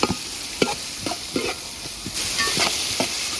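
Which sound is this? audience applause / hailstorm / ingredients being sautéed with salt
ingredients being sautéed with salt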